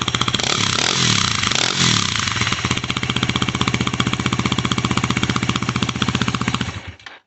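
A Yamaha WR250R dirt bike fitted with a cheap aftermarket CRF230F muffler revs loud and close, its rapid popping exhaust pulses held for several seconds before the engine cuts off abruptly.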